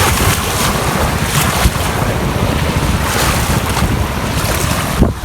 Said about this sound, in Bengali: এক একটা ঢেউ আসে কি জোরে।